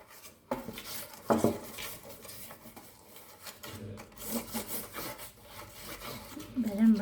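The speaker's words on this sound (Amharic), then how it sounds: "የሙዝ ኬክ የምንጋግርበት እንዳይዝብን በዘይት ወይም በቅቤው በገበታ ቅቤ" Banana bread baking pan being greased with oil or butter, soft rubbing and scraping strokes with occasional clinks, close and quiet.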